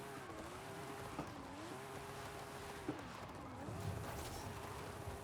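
A car drifting in Forza Horizon 5, engine note rising and falling with repeated throttle taps while tires squeal through the slide; fairly quiet and steady throughout.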